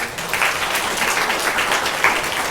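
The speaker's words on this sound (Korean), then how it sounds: "박수로 축하드립니다" Warm applause from a church congregation at a baby dedication ceremony, a brief, even burst of clapping heard alone without speech.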